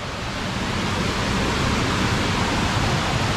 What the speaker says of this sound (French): Là, il y a une immense cascade.